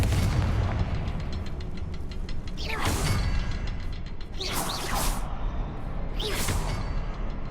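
A Confringo fire spell being cast in Hogwarts Legacy, heard as repeated whooshing bursts and booming blasts over a dense, rumbling battle backdrop, with no voices.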